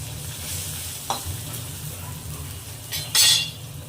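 Chana dal, green chili and turmeric powder roasting in a pan: a low steady sizzle broken by a few sharp utensil scrapes and clinks against the pan, the last one louder and brighter.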